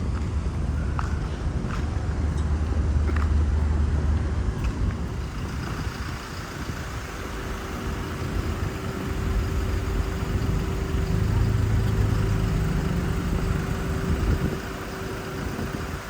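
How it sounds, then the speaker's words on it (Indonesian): Cars idling in a ferry port queue at Merak produce a continuous low engine rumble and hum, with faint footsteps and scattered clatter nearby in the busy lineup. "Ini yang barisan pertama sana yang ujung itu udah mulai masuk tuh mobil."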